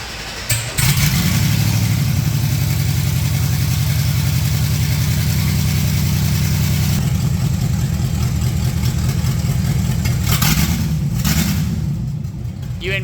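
A Datsun car engine held at about 1200 RPM with a little throttle, a steady close rumbling drone that shifts in tone partway through and fades toward the end.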